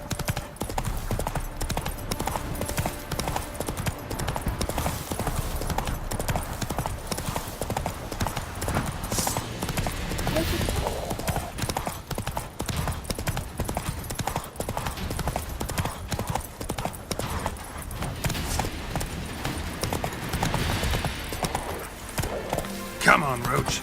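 Roach, the horse in The Witcher 3, clip-clops along in a steady, dense run of close hoofbeats that continues for the whole stretch, with game ambience underneath and a brief whinny.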